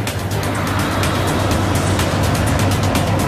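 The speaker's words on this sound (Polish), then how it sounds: "Gdy znów wciśniemy gaz, moc wraca na koła." Tesla Model S electric car accelerating, a steady, loud broadband rush of road and motor noise with a low hum running continuously throughout, no voices.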